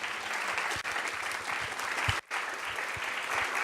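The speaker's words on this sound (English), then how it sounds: "Let's have a big round of applause for our panelists." An audience at a Brooklyn Vegan evening panel applauds the panelists, a thick continuous roar of clapping from a sizable crowd, steady and fairly loud, with a brief dropout partway through.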